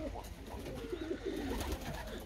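Ornamental pigeons coo steadily on a Sunday afternoon, low rolling calls overlapping in a continuous murmur close by, with faint background noise.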